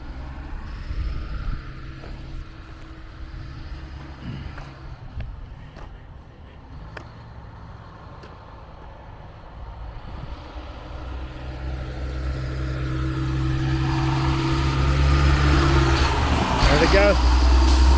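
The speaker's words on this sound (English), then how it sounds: "Hauling off debris. See in the back of the dump truck." Dump trucks hauling off flood debris after Hurricane Helene flooding in Bumpus Cove, Tennessee rumble with a steady low engine drone that swells louder toward the end as they pass close by, while a person talks nearby.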